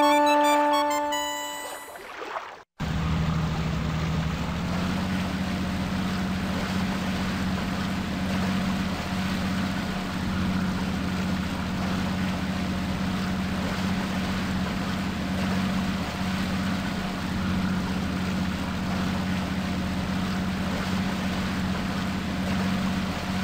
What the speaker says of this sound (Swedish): stäng av motorn! Ljudet skrämmer ju sälarna!